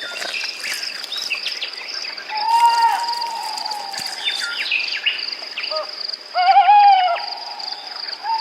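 An owl calling at night in open forest: repeated tonal hoots ring out over a constant, high chirring of crickets and other insects, with a couple of louder calls standing out clearly.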